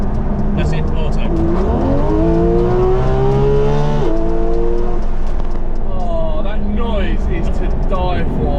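A Porsche 911 GT3 RS Weissach engine is taken to full throttle. Its note climbs steeply and loudly, breaks at a gear change, then rises again in a second rapid climb.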